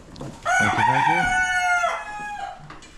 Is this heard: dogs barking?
no